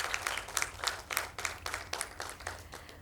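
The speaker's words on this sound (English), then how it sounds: "I'd like everyone to give a round of applause for Dr. Daksha" A crowd at a newsletter launch event applauds Dr. Daksha with a brief, fairly faint patter of claps that rises and falls in uneven pulses for a few seconds.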